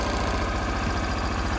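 A Kobelco SS1 compact hydraulic mini excavator engine idling up close, a steady, even low rumble with a fast regular pulse throughout.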